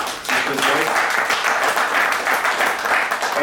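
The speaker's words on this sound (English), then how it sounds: "A big round of applause for Sister Joyce." Audience applause fills a boxing press conference, a dense, steady wash of many hands clapping at once that stays loud and even for several seconds.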